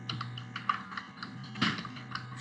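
Rapid keystrokes on a computer keyboard as a shop name is entered into accounting software, a steady run of close, moderately quiet clicks with one firmer tap partway through, no voices.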